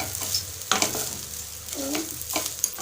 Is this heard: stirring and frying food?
yes